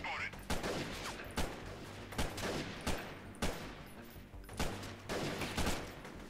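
Gunfire in a Mount and Blade battle, a close series of about ten sharp shots at uneven intervals over several seconds, with someone talking faintly underneath.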